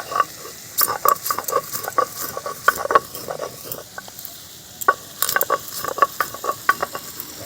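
Kul (jujube) pickle is stirred in a pan with a spoon, giving repeated irregular scraping clacks and soft sizzling taps, close and fairly loud, with no talking.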